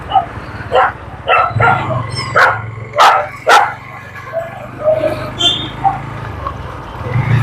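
A group of dogs at a fair barks in loud, close bursts at irregular intervals, with sharper yips and a faint whimper among them and some voices in the background.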